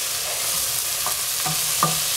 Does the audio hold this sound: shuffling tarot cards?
no